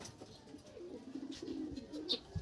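Racing pigeon cooing softly nearby, a low rolling coo repeated a few times under faint background noise.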